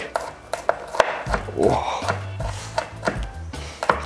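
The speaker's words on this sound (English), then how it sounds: "use the back of your knife, this one here on this side, and start chopping" A knife chops garlic on a cutting board in quick, sharp, close knocks, roughly a dozen irregular strikes, while a person talks over them.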